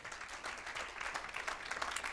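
Church congregation clapping during a sermon, heard as a fairly faint, dense and steady patter of many hands from across the room, with no distinct individual claps.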